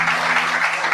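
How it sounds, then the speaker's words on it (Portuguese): A church congregation claps for Jesus during a worship service, a brief burst of steady applause that fills the room evenly, with a faint low electrical hum underneath. "Dê um aplauso a Jesus pela vida dele."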